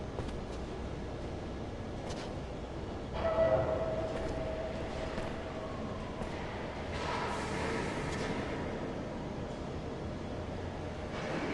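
Approaching train in the sci-fi action film Elysium (2013): a steady, heavy rumble of rolling rail cars with rising clatter and a brief swell, continuous and fairly close, with no talk.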